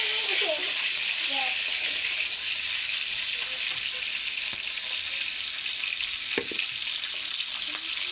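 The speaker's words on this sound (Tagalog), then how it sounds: "Tingnan niyo yung niluluto kong pork chop" A pork chop sizzles and spits in a frying pan, a constant bright hiss of hot oil with occasional pops, while a voice speaks faintly in the background.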